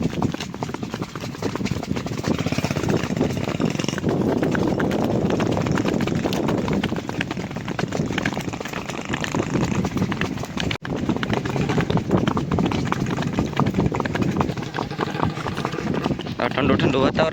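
A mare walks along in a steady clip-clop of hooves, close and continuous, with someone talking over the hoofbeats throughout and a low engine hum in the background.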